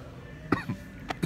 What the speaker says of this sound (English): He got me coughing.